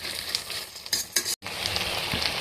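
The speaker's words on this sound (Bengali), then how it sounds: "এবার মশলাটার সাথে আমি হালকা নেড়ে চেড়ে নেব।" Rice, mung dal and spices stirred in a hot pan for bhoger khichuri, a close, steady sizzle with a few scraping strokes of a spoon and a brief cut partway through.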